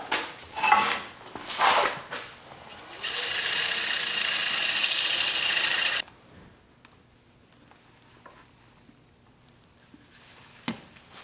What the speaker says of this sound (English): just a little sanding in there